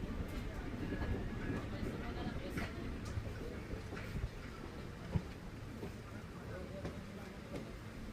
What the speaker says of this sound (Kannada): ಜೈಪುರಿಂದ ಮೈಸೂರಿಗೆ ಹೋಗೋ ಸೂಪರ್ ಫಾಸ್ಟ್ ಎಕ್ಸ್ಪ್ರೆಸ್ ರೆಡಿಯಾಗಿ ನಿಂತಿದೆ ನೋಡಿ